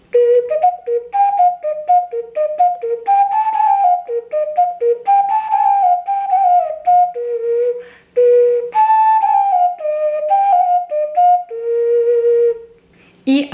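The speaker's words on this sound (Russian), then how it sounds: "Сейчас я вам покажу окаринку на 4 отверстия." A four-hole clay ocarina whistle plays a lively melody of clear, bright tones, stepping up and down in quick runs with short pauses, close and loud, with no talking.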